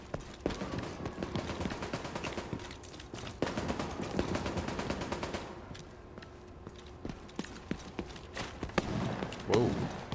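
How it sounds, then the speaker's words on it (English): NPC enemies fire weapons in The Division 2, with sharp repeated shots cracking at an uneven pace throughout, bursts briefly thinning near the middle, moderately loud against a background of game ambience. "They're shooting me, are they?"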